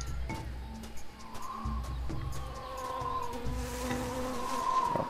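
A steady insect-like buzz from a bee in The Tales of Monkey Island plays continuously under background game ambience in a jungle setting, moderately loud with faint tonal hums.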